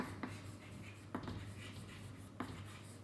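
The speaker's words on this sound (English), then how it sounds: "I can write here" Chalk or marker writing on a board during a geology lecture on fault data and principal stress axes, heard as faint soft strokes and a few light taps over steady room hum.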